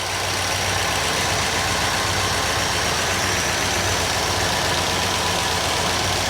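Truck engine idling after a fuel pump replacement, with the cooling system just refilled: a loud, steady low rumble and mechanical hum running unbroken throughout, close by and with no voices.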